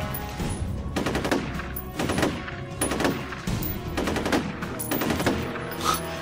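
Automatic weapon fire in the shooter F.E.A.R. Perseus Mandate comes in about six loud, close bursts of rapid shots, evenly spaced at roughly one-second intervals.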